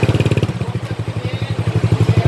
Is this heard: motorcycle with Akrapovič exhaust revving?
yes